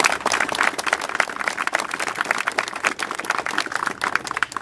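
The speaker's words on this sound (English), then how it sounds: "I know he'd love for you to thank him publicly with your applause today" An audience at a mortgage burning ceremony gives a thank-you round of applause, dense continuous clapping throughout at moderate loudness.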